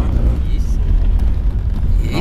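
A 1,000-horsepower BMW M240R hauling through a gymkhana course, a loud, continuous low engine roar and rumble close by for the whole stretch, steady and heavy without clear gear changes.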